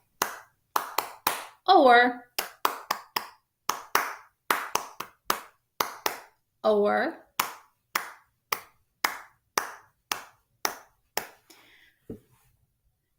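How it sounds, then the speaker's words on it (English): Sharp, close hand claps ring out in a rhythmic pattern of evenly spaced beats with occasional quick doubles, and a voice speaks briefly in between a couple of them, before the claps thin out and stop. "where people will clap a pattern"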